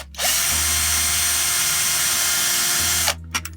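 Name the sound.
Dremel rotary tool on trailer part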